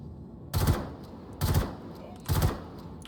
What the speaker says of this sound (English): This is a burst fire laser rifle with a 2x scope on